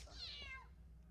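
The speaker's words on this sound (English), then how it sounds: "go away, kitty." A single cat meows once in a brief, falling call. It is faint and close, and no voices are heard.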